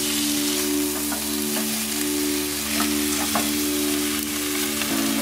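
Fried cauliflower tipped into a pan of nearly cooked potatoes for a Bengali cauliflower malai curry, sizzling and spitting loudly and continuously, with a steady background hum and occasional stirring.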